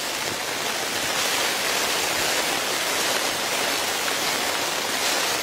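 A rain shower falls steadily on a tent at a wild camp on the Outer Hebrides cliffs, a dense, continuous hiss with no pauses and no voices.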